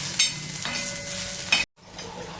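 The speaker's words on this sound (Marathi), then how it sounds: "तर आपण कांदा चांगला असा लालसर रंगावर भाजून घेणार आहोत" Onion roasting in a pan while being stirred, giving a close sizzle with scraping stir strokes, then a brief silence before the frying resumes; no talk.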